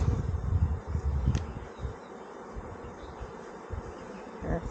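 Honeybees buzz around an opened hive on a homestead, a dense continuous drone that is louder at first and then settles into a steadier hum, close by with no talk.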